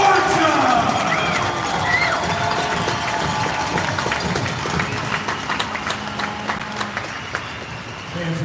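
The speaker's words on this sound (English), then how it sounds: "He would want to hear a roar from the crowd." An arena crowd at a playoff hockey game roars steadily for a fallen player, with sustained cheering and clapping throughout and a voice speaking over it.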